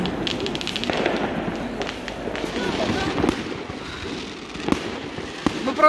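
A dense New Year's night fireworks display over a square in Otradnoye crackles and pops continuously, with scattered louder bursts and a strong bang at the close, while people talk amid the noise.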